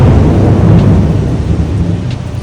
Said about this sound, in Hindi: बादल गरजने की आवाज़ सुनी आप लोगों ने?